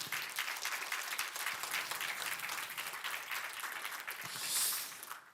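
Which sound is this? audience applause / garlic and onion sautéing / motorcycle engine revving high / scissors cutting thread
audience applause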